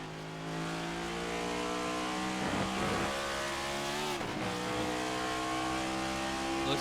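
On-board race car engine from the iRacing sim at Watkins Glen, a steady loud high-revving drone with gear-shift dips and pitch sweeps around braking, running continuously with no talk.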